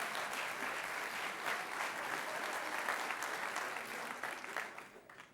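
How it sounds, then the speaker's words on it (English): An audience at a live inbound marketing conference applauds with steady, dense clapping that holds for several seconds and then begins to thin out near the end. "You can clap to that."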